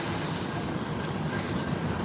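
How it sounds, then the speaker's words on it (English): Trains rumble through the rail yards beside the Hudson, heard from the elevated High Line in Manhattan: a dense, steady roar of rail traffic with faint wheel squeal and clatter mixed with city noise, no talk. "Over here, you can see the train yards that sit right by the Hudson."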